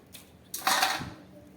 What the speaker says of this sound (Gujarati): હવે આપણે મુઠિયાને ટુકડા કરી લેવાના છે.